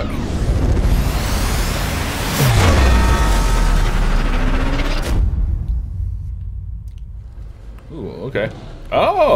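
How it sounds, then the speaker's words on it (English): A deep explosive truck blast with rumbling debris and a whooshing sweep, fading into quiet before a few sharp game sounds near the end, in the game Sniper Elite 4. "That should blow up the truck."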